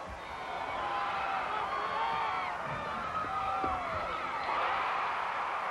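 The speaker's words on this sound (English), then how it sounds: "That cheering you're hearing is for Utah on the vault" Arena crowd cheering for Utah's vault at the 1994 NCAA women's gymnastics championships, a steady, loud wash of voices with rising whoops and calls that swells and surges throughout.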